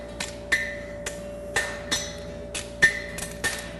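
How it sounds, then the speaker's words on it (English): A hammer rings against a Patten bar horseshoe blank on the step of an anvil, about nine separate metallic strikes spaced unevenly over a few seconds, close but moderately quiet with a steady hum beneath. "to start this bending, I come to the step of my anvil and just get a bend started"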